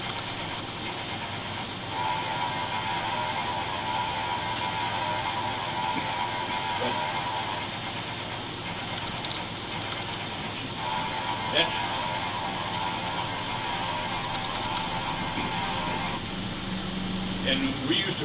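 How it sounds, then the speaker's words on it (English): Archival recording of a Boeing B-17 bomber taking off with all four engines running, a steady distant mechanical rumble and drone with faint rattles that holds throughout. "That is the sound of a B-17 taking off with all four engines going."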